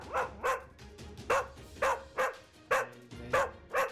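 An English Cocker Spaniel barks repeatedly in a quick, regular series of about eight sharp, close barks, with short pauses between them and no talk over them.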